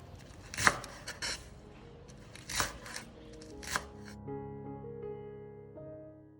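A knife chops washed garlic chives into short pieces on a board, making a few spaced, crisp strikes. Steady musical tones follow.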